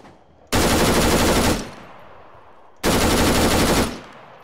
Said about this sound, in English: Shooting around him.